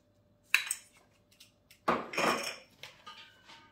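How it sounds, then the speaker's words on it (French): Mascarpone and sugar mixed in a bowl, a few separate close clinks and scrapes of a utensil against the bowl with quiet gaps in between. "On va mélanger un petit peu."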